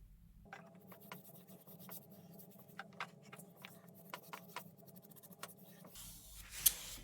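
A brush draws varnish across wood in a ceruse finish, a series of quiet, dry scratchy strokes repeating at an irregular rhythm, close up.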